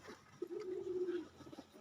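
A single soft, low pigeon coo rises briefly from a quiet background, faint and slightly distant.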